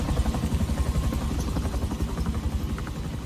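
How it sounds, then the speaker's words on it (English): Steady, rapid chopping pulses of a helicopter rotor from the video game Gears 5 thrum loudly and continuously, with no voices over them. "nonchalantly just going to jump out of a helicopter"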